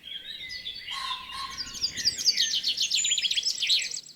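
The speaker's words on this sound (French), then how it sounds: "Les oiseaux chantent" Birds sing and chirp in a calm outdoor setting, with a dense run of quick high twittering phrases that grows busier toward the end over a soft background hiss.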